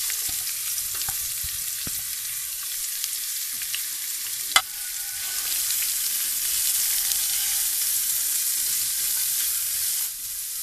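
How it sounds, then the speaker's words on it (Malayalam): A pan of refined oil sizzles steadily with a bright, even hiss, one sharp click partway through, then the frying continues unbroken to the end. "കുറച്ച് എണ്ണയിൽ നമ്മളത് വാട്ടിയെടുക്കും"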